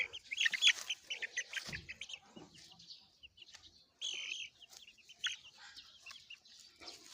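Chickens and a rooster clucking and calling nearby in a poultry yard, a busy run of short overlapping clucks and squawks with brief quiet gaps, fairly close and loud.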